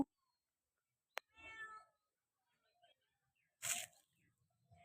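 A pet cat indoors lets out a clear, close meow after a sharp click, then a second brief, noisy cry follows in an otherwise quiet room.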